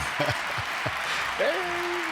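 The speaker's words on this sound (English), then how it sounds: "The fans are going crazy. That golf crowd, man." A studio audience gives a soft, steady golf clap, a continuous patter of applause that carries on under brief voices and a rising tone near the end.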